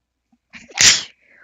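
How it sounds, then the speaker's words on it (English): A single sharp sneeze bursts out after a brief inhale, loud and close, then quiet. "I have to sneeze."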